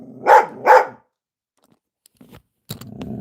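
A dog gives two loud, close barks in quick succession, then goes quiet, followed by faint rustling and small knocks.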